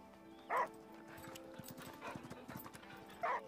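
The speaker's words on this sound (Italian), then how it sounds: "ci sta chiamando il cane." A dog in the video game Last Day of June gives two short, distinct barks about three seconds apart, over quiet game ambience and soft footsteps.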